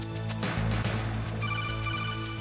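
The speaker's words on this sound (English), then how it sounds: "We got another phone call." An in-game codec phone call rings in Metal Gear Solid, a loud electronic ringtone with a sustained tonal pattern over a humming background.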